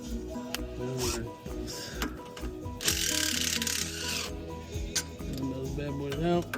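A hand ratchet clicks in quick rhythmic bursts while backing out two 15 mm bolts, close and clear, mixed with mechanical clatter and some background noise.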